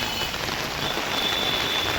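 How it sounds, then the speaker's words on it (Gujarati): Steady, dense rainfall pounding a surface, a continuous hiss with no pauses or voices. "એટલો જોરદાર વરસાદ છે ને કે ખતરનાક વરસાદ ચાલુ છે"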